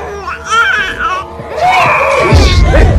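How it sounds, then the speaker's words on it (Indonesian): Baby crying loudly and insistently in wavering wails, close up, with overlapping voices and a rise in background commotion toward the end. "mereka pun telah mendengar suara tangisan bayi"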